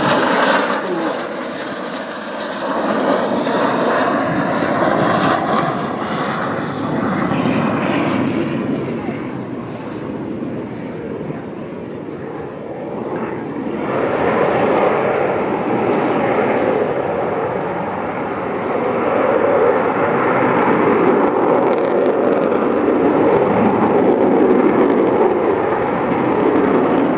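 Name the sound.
Avro Vulcan B2 XH558 bomber low pass with gear down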